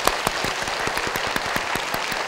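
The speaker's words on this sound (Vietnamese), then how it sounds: "Quý vị dành một tràng vỗ tay nhé." A studio audience at a Vietnamese TV game show breaks into steady applause, a dense wash of many hands clapping with a few sharper individual claps, loud and with no talking.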